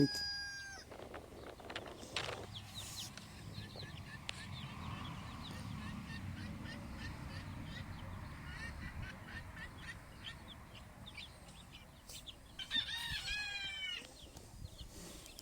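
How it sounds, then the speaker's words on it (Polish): Poultry from a viewer's backyard flock, mixed chickens and geese, honk and cluck in a steady chorus across the whole stretch, with sharper honking calls bursting out near the end and no talk over them. "Tam kurczaki jakieś"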